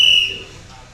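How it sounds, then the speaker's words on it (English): A referee's whistle blows to start a lift at a novice men's weightlifting competition, ahead of a power clean. It gives a sharp, bright blast of about a third of a second that fades into murmuring room noise. "On the whistle."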